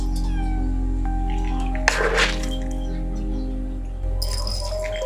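Pet cats being moved into a cage after a bath and cage cleaning meow and caterwaul over a steady mechanical hum, with a sharp crack or thunk near the middle and more calls toward the end.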